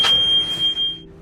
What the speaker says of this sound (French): Ce bruit-là, c'est l'alarme du radar qui dit qu'il y a quelque chose.